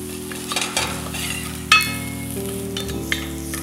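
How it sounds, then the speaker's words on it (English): Celery frying in a saucepan as it is stirred, a steady sizzle with scraping spoon strokes and a sharp clink of utensil against the pan, close up with no voices. "make sure that you keep on stirring the contents in the"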